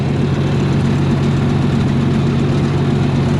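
An old UniSystem farm engine runs steadily after a timing fix, giving a constant close, loud, low chugging drone with even rhythm and no pauses or speech.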